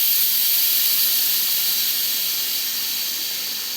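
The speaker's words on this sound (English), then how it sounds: "let whatever pressure is on the pot off by opening the steam valve" Steady hiss of steam venting from an Instant Pot's opened pressure valve while making rice pudding, loud and continuous for several seconds and tapering slightly toward the end, with no talking.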